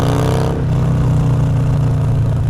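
A motorcycle fitted with a Bassani exhaust pipe accelerates up close, a loud, throaty drone that holds steady after an initial sharp pull.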